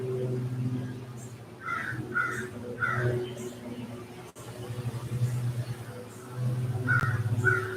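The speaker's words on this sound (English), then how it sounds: "There's some crows up there." Crows caw overhead outdoors in short bursts, three calls in a row and then two more later, moderately distant over a low steady rumble and some faint voice.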